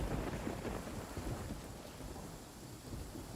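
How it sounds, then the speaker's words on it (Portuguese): Steady rain in Genshin Impact, a dense, even broadband hiss with low rumbling texture that holds at constant loudness throughout, with no talk over it. "Tô gostando do Genshin que tá com barulho de chuva, mas não tá nem chovendo, né?"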